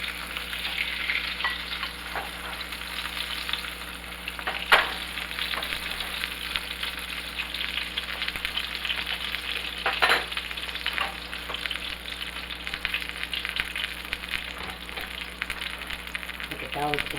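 Salmon sizzles in a hot pan while being basted with butter, a steady, even frying hiss throughout, broken by a few soft clicks and scrapes of a utensil.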